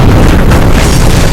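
Aircraft engine explosion effect in a Roblox flight game, with a loud, dense, sustained rumbling boom that fills the whole moment with no pause.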